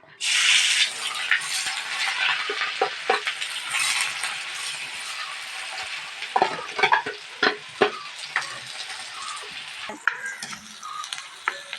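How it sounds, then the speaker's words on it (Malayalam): Finely chopped onion and a split green chilli sautéing in oil after mustard seeds have popped, a loud sizzle at first that settles into steady frying with repeated scraping and clinking stirs. "കടുക് പൊട്ടി സവോള ചെറുതായിട്ട് അരിഞ്ഞതാണ് പച്ച ഒരു പച്ചമുളക് രണ്ടായിട്ട് പൊളന്നിട്ടാണ് കണ്ടതൊന്ന് വഴത്താൻ"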